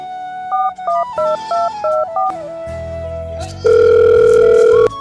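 A rapid series of electronic keypad tones dialing a number, then a steady loud tone, close and with no talking.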